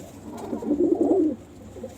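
A pigeon near a female bird gives a single close, clear cooing phrase lasting about a second, with quiet background before and after.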